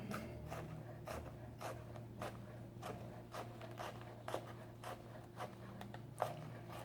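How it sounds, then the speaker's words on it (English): A knife dicing an onion on a cutting board: a quick, irregular series of soft, close chopping taps over a low steady hum. "We're going to dice this, and we're going to cut this way."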